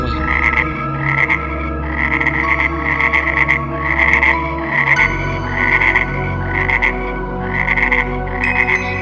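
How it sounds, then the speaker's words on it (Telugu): Frogs croak in a dense, steady chorus, a plague of frogs in ancient Egypt, with regular pulsing calls about once a second over a low continuous drone, loud and close throughout with no voices. "దేశమంతా కప్పలమైంది."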